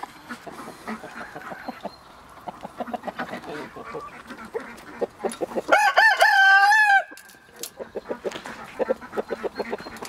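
Chickens cluck and chatter in short bursts in a Polish village, then a rooster lets out one long, loud crow before the clucking resumes.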